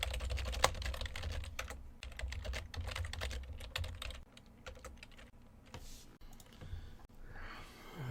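Computer keyboard typing, a quick run of close crisp key clicks in irregular bursts, thinning out toward the end with short pauses between strokes.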